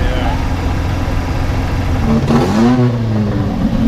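A small vintage race car with a Fiat engine, an Abarth, hums steadily nearby in the pits, then revs up with a rising whine partway through.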